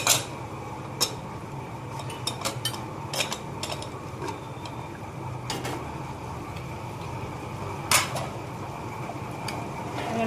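Metal lid and utensil clatter from a pressure cooker of mutton curry being opened in a home kitchen: scattered sharp clinks and taps over a steady low hiss, close and moderately loud, with no talk.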